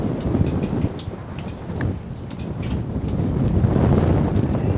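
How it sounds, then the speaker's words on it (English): Rain falling on a golf course during a round, a steady patter mixed with heavy wind buffeting the microphone and sharp drop impacts, continuous and loud throughout. "Yeah, it's raining."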